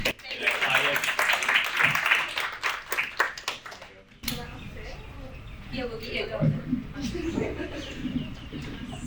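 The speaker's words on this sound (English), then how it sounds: "let's all give a round of applause to our first poet" An audience at a poetry slam applauds the first poet, a dense burst of close clapping for about four seconds that fades, followed by quieter room murmur and voices talking.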